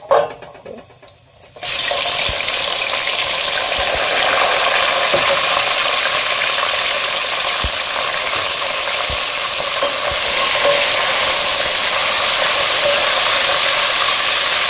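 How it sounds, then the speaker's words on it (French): Onion drops into hot oil previously used for frying fish and sets off a loud, continuous close sizzle. It starts abruptly after a quiet moment and carries steadily to the end with faint clicks, no voices. "J'ai utilisé l'huile que je réutilisé l'huile que j'ai avec lequel j'ai frit les poissons pour ne pas gaspiller. Donc voilà, là je vais mettre l'oignon."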